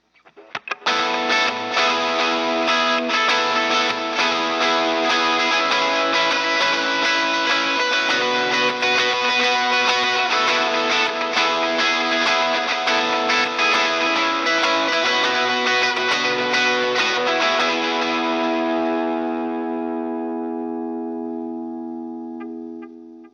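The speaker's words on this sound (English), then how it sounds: "I like having the dotted eighth delay on the Les Paul as well, with a hint of reverb." Gibson Les Paul electric guitar through a dotted eighth delay with a hint of reverb plays a driven, sustained passage of repeating notes for about twenty seconds, then rings out into a fading tail.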